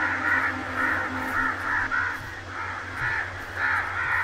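A flock of crows caws continuously in a creepy scene from the game Only If, with harsh overlapping calls repeating over a low steady drone. No one talks.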